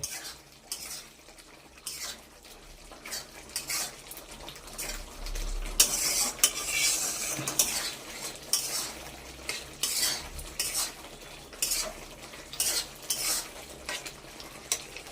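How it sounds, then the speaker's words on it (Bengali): Pointed gourd sautés in an oily pan while a metal spoon stirs and clanks against the sides, with repeated scraping strokes over a low sizzle, close and busy. "এখন এই দিয়ে দিলাম, পটলগুলো দিয়ে ভালোভাবে কষিয়ে নেব।"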